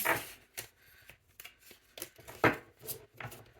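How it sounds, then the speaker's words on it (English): Cards from a Modern Witch tarot deck are shuffled overhand close by, soft papery slaps and riffling rubs coming in quick irregular bursts at low volume with no talking. "So let me just do my little overhand shuffle."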